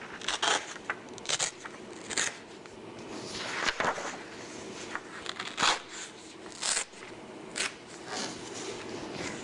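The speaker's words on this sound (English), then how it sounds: "and then you just tear it. Tear your 4 pieces." Paper being torn by hand into four pieces for origami flowers, a series of short crisp ripping bursts separated by pauses, close up with no talking.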